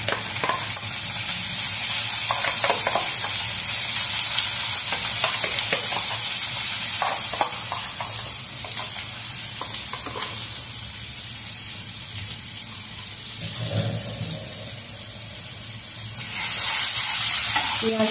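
Onion paste frying in a pan over a medium-high flame for chicken bharta, giving a steady, loud, close sizzle with occasional stirring scrapes throughout.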